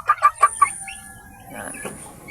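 A hen nesting in the grass gives four quick, close clucks in a row, then trails off into softer, scattered farmyard sounds.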